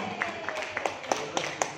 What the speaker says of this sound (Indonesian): Tepuk tangan dong Bapak Ibu semua